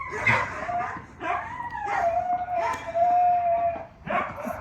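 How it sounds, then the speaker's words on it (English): Several dogs yip and howl at once nearby, with long wavering howls rising and falling in pitch across a few seconds and short yelps breaking in. "There goes the freak out of the dogs."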